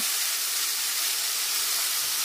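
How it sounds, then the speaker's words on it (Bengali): Ground spice paste frying over low flame in a pan, a steady, even sizzle and hiss that runs continuously and close without any voices. "এবার আমি যে মশলাটা বেটে রেখেছিলাম সেই মশলাটা এর মধ্যে দিয়ে দিচ্ছি। এবার লো ফ্লেমে 2 থেকে 3 মিনিট এই মশলাটাকে কষিয়ে নিতে হবে।"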